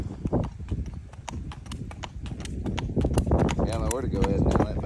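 A gaited gelding, about 15.2 hands and shod flat all the way around, clip-clops steadily under a rider in quick, even hoofbeats close by, while someone talks over them throughout.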